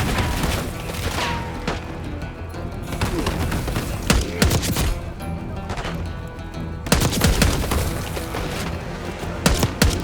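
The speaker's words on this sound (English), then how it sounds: "Airstrike's inbound." Airstrike explosions and rapid gunfire in Call of Duty Black Ops 6, with sustained automatic fire broken by loud booming impacts and crashing blasts at close range.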